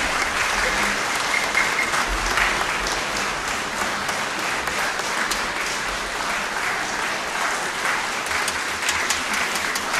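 Dense, steady applause from a concert audience fills the hall without pause after an orchestra performance with violinist Pavel Šporcl.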